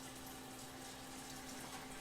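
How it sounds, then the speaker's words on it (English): Tap water runs steadily into a cooking pot in a home kitchen, a soft, even rushing flow heard quietly and alone. "just gonna put some water in this pot here"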